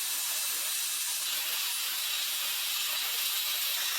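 Sandblasting a cast iron part from a 100-year-old Singer sewing machine: a loud, steady, broadband hiss of abrasive blasting, continuous and close, with no pauses and no voices.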